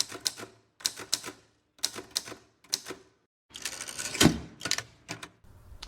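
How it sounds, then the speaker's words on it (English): Typewriter keys clacking in quick bursts of sharp mechanical strikes with short pauses, close and crisp, with no voices. "Clack of a keyboard? Just like a clack of a typewriter?"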